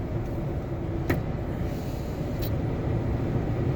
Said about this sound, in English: I had a car that was passing the other lane.